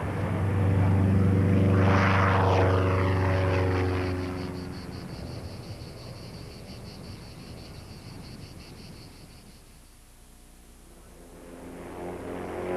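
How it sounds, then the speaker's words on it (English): An ordinary propeller-driven business aircraft flying aerobatics passes overhead with a loud droning engine roar that peaks and shifts in pitch, then fades to a distant hum before swelling again. "To fly an ordinary business aircraft in this way calls for an exceptional skill."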